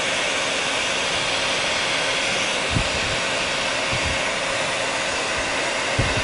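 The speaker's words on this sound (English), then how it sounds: "I'm going to throw this hair dryer on to heat things up." A hair dryer blows continuously with a loud, steady whooshing hum close by, and faint low thumps underneath.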